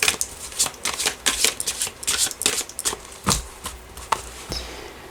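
Tarot cards shuffled and cut by hand for a French-language reading, a quick run of crisp riffling and slapping bursts, close and fairly loud, with a couple of sharper taps near the end.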